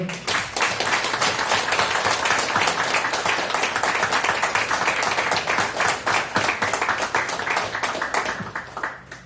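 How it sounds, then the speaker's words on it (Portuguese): A church congregation claps together in sustained, dense applause for several seconds, then tapers off toward the end. "vamos aplaudir ao Senhor"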